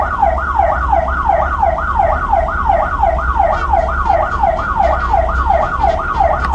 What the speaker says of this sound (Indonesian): Dan yang kelima akan membunyikan sirene.